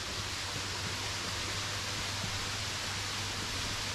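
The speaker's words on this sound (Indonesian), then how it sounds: "Bisa teman-teman dengar ya suara air, suara sungai di pegunungan ya." A mountain river beside a remote forest village rushes in a constant, even wash of water noise, moderately distant and unbroken, with no voices.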